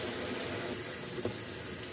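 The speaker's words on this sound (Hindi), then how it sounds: "अभी हम नीम गर्म पानी ऐड कर देते हैं 1 कप।" About a cup of lukewarm water is poured into frying chicken for Lahori chicken biryani, giving a steady wash of pouring and sizzling with one brief splash partway through.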